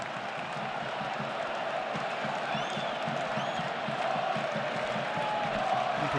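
Stadium crowd at a Barcelona vs Real Madrid match in Seville, a steady roar of many spectators with light applause and occasional whistles rising throughout, dense and continuous.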